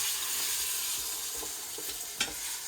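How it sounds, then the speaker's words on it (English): Steady loud sizzling of beef shanks searing in a hot pan, a dense hiss throughout with a few brief pops and crackles. "Listen to that sizzle."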